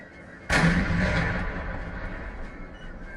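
A cannon shot from the American Civil War mod of Napoleon Total War during a siege of Fort Wagner: one sudden deep boom followed by a long rumbling decay, loud and close.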